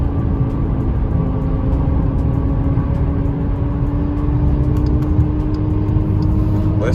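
A Ford Mustang engine drones loud and steady nearby at night, a continuous rumble that fills the whole stretch with faint clicks on top.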